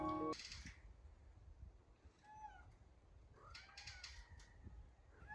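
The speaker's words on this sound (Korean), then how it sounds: "검은 고양이의 울부짖는 소리가 들리네요" A black cat cries out in a few drawn, wailing meows, fairly faint against quiet background noise.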